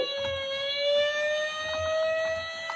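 Fire engine siren, a steady high wailing tone held loud and close with faint background noise beneath it and no voices.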